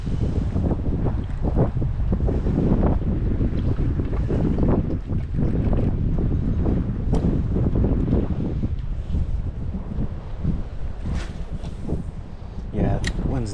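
Strong wind roars steadily across the microphone at a saltwater fishing spot on the shore, loud and buffeting throughout, with faint surf underneath.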